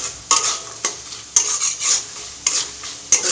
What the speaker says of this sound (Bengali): দিয়ে দিচ্ছি নুন হলুদ, দিয়ে নাড়াচাড়া করছি।